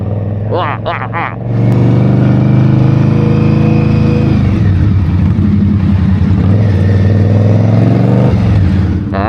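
An Indian Scout Rogue motorcycle fitted with a Saddlemen step-up seat revs up loud and close, the engine rising steadily as it accelerates, with a brief quieter idle and faint voices at the start.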